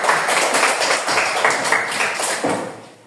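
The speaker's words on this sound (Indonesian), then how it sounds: "tepuk tangan untuk kita yang masih fokus sampai sekarang" A class of schoolchildren claps hands together, brisk and fairly close, with rhythmic bursts of claps that slow and soften toward the end.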